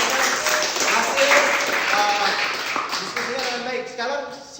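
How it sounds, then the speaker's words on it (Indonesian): Students in a school classroom applaud a presenting group, a scattered patter of hand claps at moderate loudness while voices talk over and among them. "Tepuk tangan buat kelompok 1"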